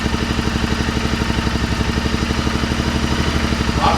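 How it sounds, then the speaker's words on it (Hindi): A motorcycle idling steadily after a half self-start with a low-battery jump, its engine giving an even, rapid putter close to the listener, loud and alone without speech. "स्टार्ट हो गई है जी, स्टार्ट हो चुकी है। हाफ सेल्फ स्टार्ट पे स्टार्ट हुई है।"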